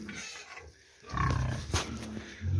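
A farrowing sow kept in a village home pen grunts in low, rough bursts, loudest near the middle and end, with farmyard background around it.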